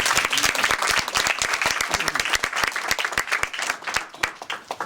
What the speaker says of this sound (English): Could you give Glenn a round of applause because this is his idea?